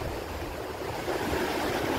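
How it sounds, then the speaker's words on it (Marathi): The Purna river rushes past with great force, a steady, full roar of churning water that stays loud and even throughout with no voices. "पाण्याला बॉम्ब फोर्स आहे बघा"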